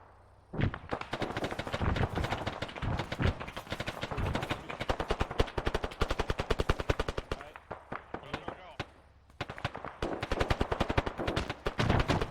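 Bursts of machine gun fire in the video game Arma 3 rattle in rapid, loud volleys with short pauses between strings of shots, mixed with scattered single gunshots and brief radio-style voices underneath.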